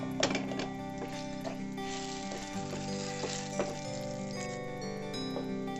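Garlic and Guntur chillies frying in oil in a pan, a steady sizzle with occasional stirring clinks, over a tonal hum in the background, with no voices.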